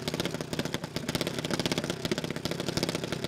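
A junior dragster's 542cc engine idles at a drag strip with a fast, choppy pulsing beat, steady and fairly close for a few seconds.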